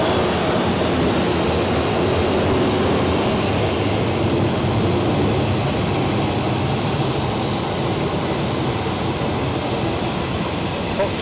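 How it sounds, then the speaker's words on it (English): A business jet rolls for takeoff at Zurich Airport, heard as a steady broad engine roar from a distance that holds level throughout. "Oh, we've got BizJet rolling."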